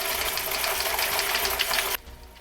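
A motorized replica chainsword spins its chain with a loud, close, high-pitched whirring buzz that holds steady for about two seconds, then cuts off abruptly, leaving a faint low hum.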